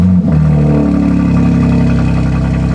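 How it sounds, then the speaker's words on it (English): A BMW M3 engine cold-starts with a brief starter crank and then settles into a loud, steady, close-up idle with a high, even rumble. "let's get a cold start"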